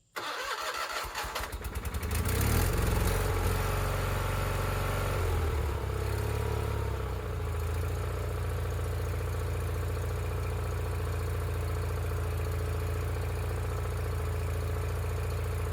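A tractor engine cranks and catches after its gas tank is refilled, then settles into a loud, steady idle close by with no voices.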